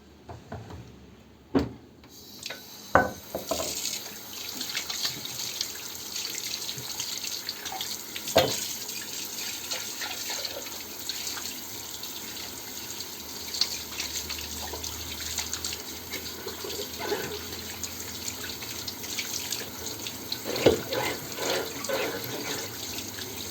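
A kitchen tap runs steadily into a sink while dishes are washed, a continuous splashing stream broken by occasional clinks and knocks of dishware, with no speech.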